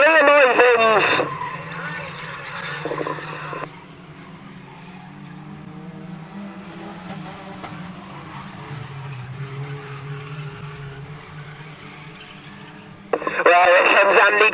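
Stock cars race around the oval at Standlake Arena, their engines a steady, somewhat distant drone with occasional tyre noise, while a commentator talks over them throughout.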